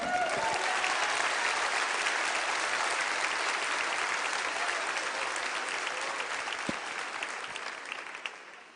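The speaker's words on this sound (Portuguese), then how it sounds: "Pode aplaudir o Senhor." A church congregation applauds during a worship service: dense, steady clapping fills the whole stretch at full strength, easing slightly toward the end, with no talk over it.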